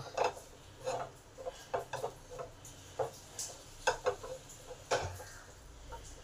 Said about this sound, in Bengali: অফ করেও কন্টিনিউ নেড়ে যেতে হবে, নাড়া বন্ধ করা চলবে না।